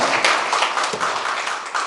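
Dense, steady applause from an audience at a Korean township citizens' dialogue meeting in Jeonui-myeon, greeting a local dignitary as guests are introduced; continuous clapping at a fairly loud level with no speech over it.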